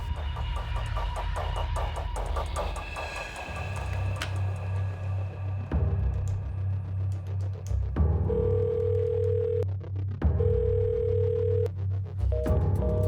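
A telephone dial tone hums steadily, followed by a series of electronic call-progress tones and beeps in repeating bursts, loud and close with no talk.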